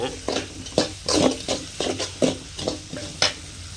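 Onions sautéing with salt in a pan, stirred in a regular rhythm, giving about a dozen scraping strokes over soft sizzling, close and clear with no talk.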